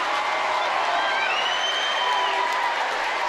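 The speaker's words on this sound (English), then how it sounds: "And this crowd goes crazy." A high school basketball crowd roars and cheers after a foul during an Elite 8 playoff game, a loud, continuous wall of voices and applause filling the gym from start to finish.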